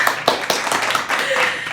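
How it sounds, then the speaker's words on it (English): An audience claps in a short, loud burst of scattered hand claps, with a voice speaking over them. "What's behind those claps?"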